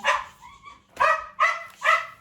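A dog barks four times nearby, short sharp woofs with a brief whimpering tone between the first two, loud and alone in an indoor setting.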